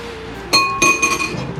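A coconut shell struck and cracked open under pressure, a sharp ringing clink followed by a second hard crack and rattling, close and clear with no talking.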